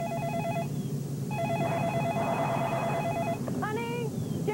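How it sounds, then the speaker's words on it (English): A telephone rings inside a TV commercial with a trilling electronic pattern, two long bursts separated by a pause, then a brief rising tone, all over a busy background murmur. "Honey, Jerry's on the phone"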